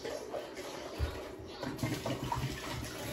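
Water sloshes and splashes inside a Ninja blender jar as it is rinsed and shaken, a short, close, churning wash with a few heavier splashes.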